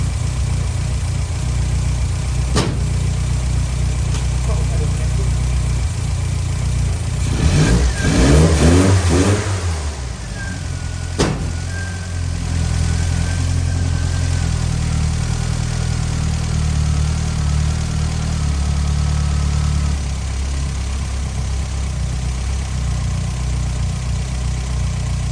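Classic Mini engine running steadily close by, a bit rich on mixture, with a brief rising rev burst in the middle before settling back to a rough idle, no talking.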